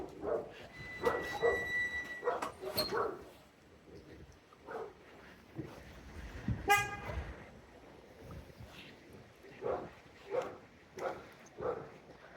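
A dog barks from a car behind, faint and distant, in short bursts mixed with a car horn toot and quiet street ambience.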